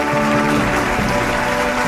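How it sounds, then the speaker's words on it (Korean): Large hall crowd applauding as True Mother enters a Unification Church commemorative festival marking the eighth anniversary of True Father's ascension, a steady dense wash of clapping with faint tonal music or voices underneath. "큰 감사의 박수로 참 어머님을 맞이하여 주시기 바랍니다"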